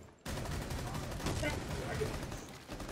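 Rapid gunfire in the video game Rainbow Six Siege, a sustained burst of shots starting suddenly, fairly faint in the mix and running continuously with a few sharper cracks.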